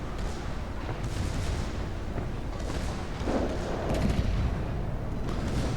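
Battleship turret guns firing in World of Warships, from the Nagato, a steady roar of broadband gunfire rumble with heavier booms swelling through, continuous and loud with no talk.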